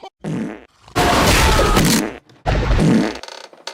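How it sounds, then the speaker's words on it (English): Cartoonish fart sound effects in an animation, three separate bursts of blubbery, rasping flatulence of varying length with short gaps between, loud and close, no voices. "add farts every couple seconds into this"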